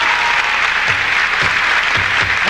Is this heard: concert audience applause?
yes